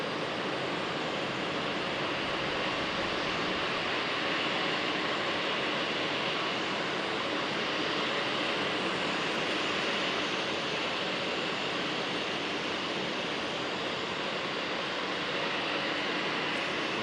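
A jet airliner named Deja Blue taxis toward the gate at Raleigh-Durham airport, its engines a loud, continuous, unbroken roar that holds steady throughout with no voices.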